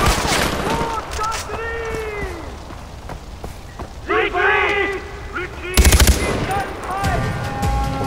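Gunfire in the video game Far Cry 4, with several sharp bursts and rattling shots scattered among other in-game sounds, including one loud burst near the middle.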